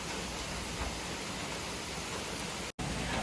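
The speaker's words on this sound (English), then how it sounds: "Sound of the rainstorm." A rainstorm in Tofino pours down as a steady, dense hiss of falling rain that stays constant throughout, with one brief cut near the end.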